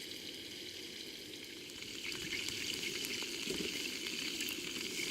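Cutlets fry in a pan over an Eco-Fire camping stove outdoors, giving a faint, steady crackling sizzle that swells slightly partway through, with no voices.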